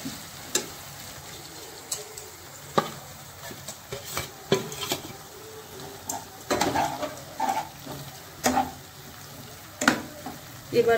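Ginger and garlic paste frying with softened onion and tomato for chicken bhuna masala, a low sizzle under repeated scraping and stirring strokes against the pan, close and moderately loud, with no talking.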